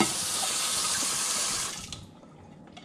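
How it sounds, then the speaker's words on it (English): Tap water runs hard into a kitchen sink while dishes are rinsed, a loud steady broadband rush that cuts off partway through, leaving faint drips and clinks. "water back on, rinse it off."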